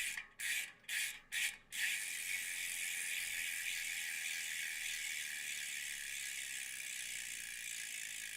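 Carbon fiber clincher aero bicycle wheel freehub ratchet clicking rapidly and steadily as the wheel spins freely, preceded by a few short bursts of clicks, close and clear with no talking.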